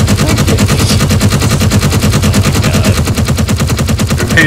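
Machine gun fire in the video game Space Engineers rattles out as a loud, rapid, steady stream of shots close up, running without a break for the whole stretch.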